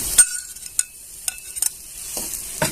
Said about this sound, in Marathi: छान असं ते पण परतून घ्यायचं आपल्याला पनीर